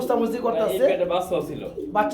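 Pigeons coo in a caged pigeon sale setting, soft low calls repeating under steady nearby talking for the whole stretch.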